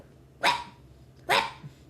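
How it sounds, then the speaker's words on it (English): A dog barks twice, two sharp separate barks about a second apart, close and clear against a quiet background, with no talking. "Oh, wait, 2 barks is no, never mind."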